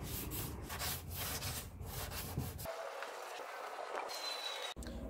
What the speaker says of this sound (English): I'm going to actually go by hand, the sanding block.